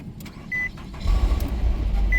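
A Nissan Altima with 146,000 miles starting by push button: after brief clicks and a short chime, the engine cranks and catches at about one second, then settles into a steady, close idle.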